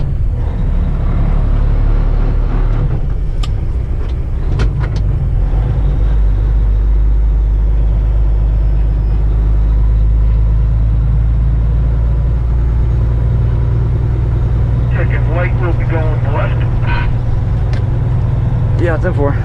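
Vehicles rumble along a narrow street in Buffalo, NY, a loud, steady low engine drone running the whole time, with voices talking over it.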